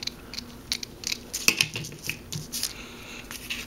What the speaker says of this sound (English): Let's cut a little bit of this off.